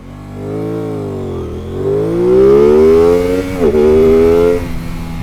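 A 2024 Aprilia Tuono 660 Factory motorcycle accelerates hard on the road, its engine note rising steadily in pitch through the revs and then dipping briefly at a gear change. Loud and close, with no voices.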